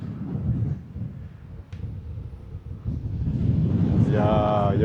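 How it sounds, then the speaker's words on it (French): Strong wind buffets the microphone on the long beach at Morondava on Madagascar's west coast, a constant low roaring rumble that swells louder toward the end. "Il y a beaucoup de vent"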